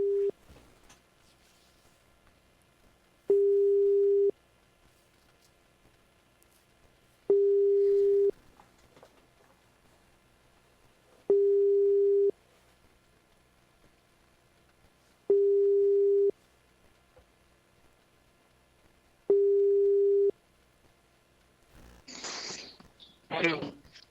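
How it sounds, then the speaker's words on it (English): A telephone line rings back while a call is placed, five evenly spaced tone bursts about four seconds apart over a quiet line, followed by a short burst of noise as the call connects. "Let's see if Mike is on the line or near his phone."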